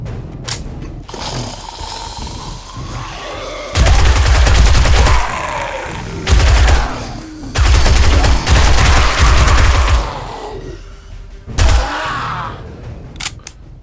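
Gunfire against zombies in 7 Days to Die, several loud bursts of rapid automatic fire lasting a second or two each, with mechanical clicks and quieter stretches between them.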